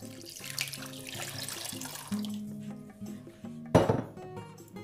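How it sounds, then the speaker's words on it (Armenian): Water poured into a cooking pot already holding sugar, a steady pouring wash with light clinks of metal cookware and a brief louder splash near the end, close and alone without talk. "Եվ ավելացնենք 1 լիտր ջուր։"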